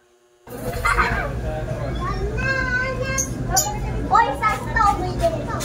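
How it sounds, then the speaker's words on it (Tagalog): Children's voices and playful shrieks ring out at night around a small neighborhood store, a steady busy murmur with bursts of higher calls and a constant low hum underneath. "Maingay pa rin dito kahit 10 o'clock na ng gabi, maingay pa rin dito mga bata."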